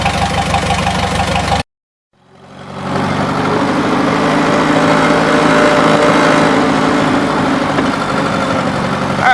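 A 1953 Super H tractor engine runs loud and close on a test drive with a steady mechanical chug. It cuts out briefly, then swells back to a strong, even running note.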